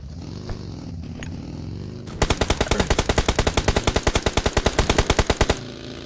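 Rapid automatic gunfire in a video game, a steady burst of about twenty sharp shots lasting some three seconds, loud and close, following a stretch of quieter ambient game sound with a faint tone.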